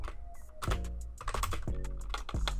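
Close, loud keystrokes on a computer keyboard during a live stream setup, typed in quick bursts with heavy thunks and no talking.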